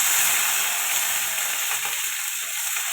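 Onions frying in oil with five-spice tempering, a loud close hissing sizzle that stays steady and bright with faint stirring underneath, no voices.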